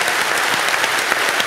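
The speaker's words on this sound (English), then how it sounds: "Please give them a huge round of applause." A festival audience claps steadily for a speaker at a literary event, a dense continuous wash of many hands at even loudness throughout with no voices on top.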